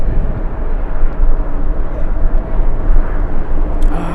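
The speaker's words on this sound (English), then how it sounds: "We have an American Airlines A321 lined up." An American Airlines A321 jet roars steadily on its takeoff run at LAX on a windy day, a loud continuous engine rumble with gusty noise, no talk.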